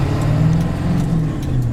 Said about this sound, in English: And I'm just giving it moderate throttle.